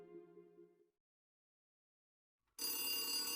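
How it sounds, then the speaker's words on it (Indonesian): A home telephone bell rings loudly and harshly after a moment of silence, preceded by a brief fading tonal sound. "telepon rumah keluarga Ha tiba-tiba berdering."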